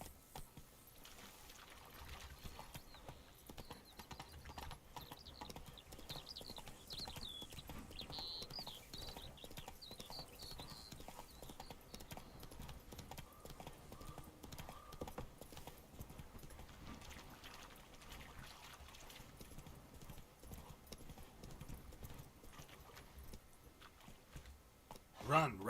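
Roach, the horse in The Witcher 3, clip-clops steadily throughout, a continuous hoof rhythm under game music and a voice talking.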